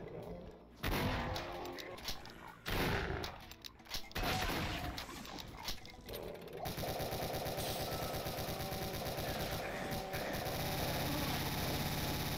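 A super shotgun in a video game fires in several loud, booming blasts amid a chaotic, noisy combat soundscape, followed by a sustained dense wash of game noise.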